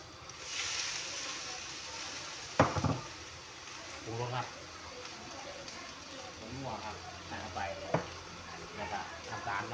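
Stir-frying for Thai chili fried rice in a pan, a steady sizzle with scraping stirs and a sharp clatter of the spatula, while someone talks over it throughout.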